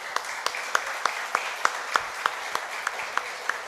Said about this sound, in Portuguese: Você pode aplaudir o Senhor aí, queridos?